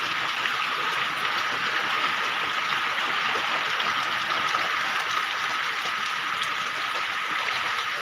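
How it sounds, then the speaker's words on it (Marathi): A constant, dense hiss of heavy rain pours down without letup, loud and even throughout. "गावाकडं किती मोठा पाऊस आला आहे"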